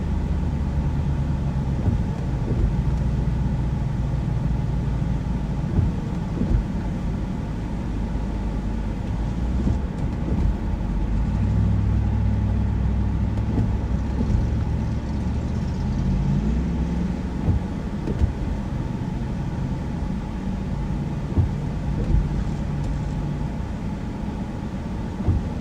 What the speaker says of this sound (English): this truck was loud.